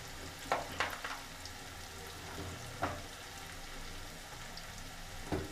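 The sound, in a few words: masala frying in a pan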